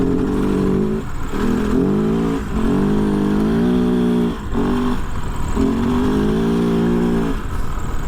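Kove FSE 450R rally motorcycle, 2023 model, ridden in dunes: a close, loud engine revving in repeated rising bursts with short dips between them, like throttle blips through gear changes.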